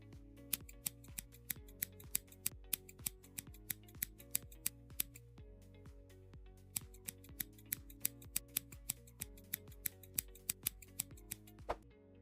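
Scissors snip through paper or card, cutting out a crescent shape for a Ramadan decoration, in a quick steady series of close, crisp clicks with no talking.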